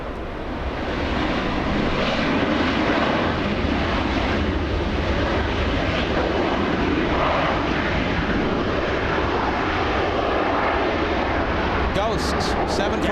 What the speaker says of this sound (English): Southwest 3834 flying in from San Jose, California.